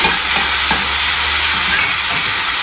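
Soy sauce sauce being stirred in a pan over a medium flame, a steady close sizzle and hiss with soft scraping strokes throughout, no voices.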